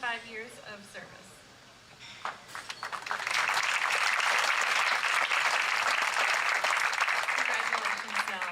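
A banquet hall crowd at a VA employee awards dinner breaks into sustained, dense applause that swells after a few seconds and holds steady, loud and close.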